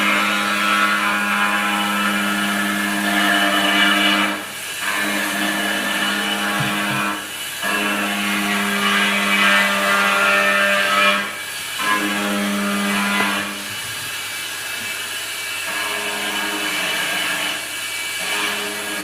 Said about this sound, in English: Just so that you could get some chainsaw action in your ears for a while.